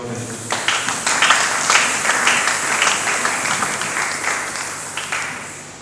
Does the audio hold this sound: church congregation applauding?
yes